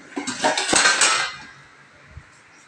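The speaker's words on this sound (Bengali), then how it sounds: "তার জন্য আমি উপরে একটা ঢাকা দিয়ে দেবো।" A metal lid set onto a pot of rice boiling on the stove, a bright clattering clink of metal on metal lasting about a second, then fading into quiet.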